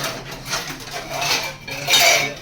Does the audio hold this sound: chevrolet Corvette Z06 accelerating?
no